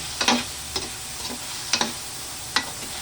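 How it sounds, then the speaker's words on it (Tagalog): A spoon stirs igado in a frying pan, giving a few distinct scraping strokes over a low, steady sizzle, close and alone. "Haluin lang natin."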